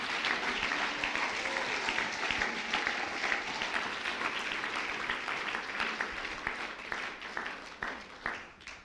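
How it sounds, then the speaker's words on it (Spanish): A church congregation applauds at a Sunday missionary-week closing service, steady loud clapping filling the room throughout and tapering off near the end. "Dele fuerte el aplauso al Señor"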